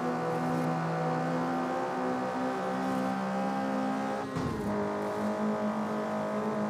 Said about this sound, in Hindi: काफी खतरनाक साउंड आ रहा है फिर पीछे से ये वाली गाड़ी का